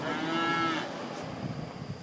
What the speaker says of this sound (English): Nice bunch of cows, ain't they?